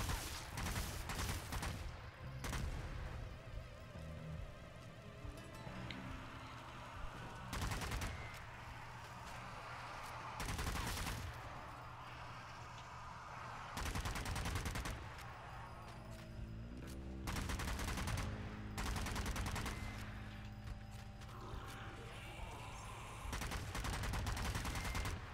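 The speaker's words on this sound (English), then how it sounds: "Shots." Gunfire in the game Zombie Army 4: Dead War, with repeated loud bursts of automatic and single shots in clusters, separated by short lulls, close and dominant throughout.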